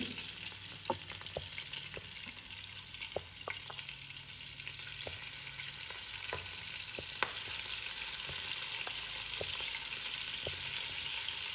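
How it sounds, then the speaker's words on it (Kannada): Prawns frying in hot oil over a medium flame: a steady, dense sizzle throughout, punctuated by scattered sharp pops and light clicks of stirring, close and without talk. "ಎಣ್ಣೆ ಕಾದೈತಿ. ಈಗ ಪ್ರಾನ್ಸ್ ಫ್ರೈ ಮಾಡ್ಕೊಳ್ಳೋಣ ಅಂತ."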